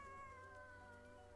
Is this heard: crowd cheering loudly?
no